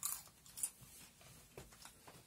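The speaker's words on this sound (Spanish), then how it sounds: "la cabeza de camarón seco está más crujiente que los champolines" Quiet, close crunching of a dried shrimp head being bitten and chewed, a few irregular crisp crackles spread across a soft background with no speech.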